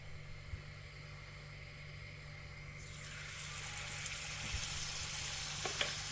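Spoonfuls of wet pakora batter hitting hot oil, the quiet background giving way to a loud, continuous sizzle and splatter that builds and holds with small pops.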